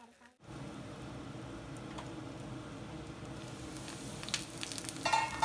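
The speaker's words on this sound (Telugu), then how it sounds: "దొండకాయలు కూడా మంచిగా గోల్డెన్ కలర్లోకి వచ్చేసి వేగిపోయినాయి" Ivy gourds fry in oil until golden, giving a steady, close sizzle and crackle that swells slightly toward the end, with occasional stirring clinks and no voice.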